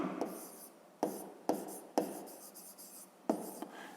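Pen or marker strokes writing out a math expression, a series of short scratchy bursts with pauses between them, close and fairly quiet with no talking.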